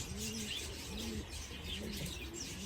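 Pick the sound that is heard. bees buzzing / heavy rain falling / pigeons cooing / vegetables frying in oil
pigeons cooing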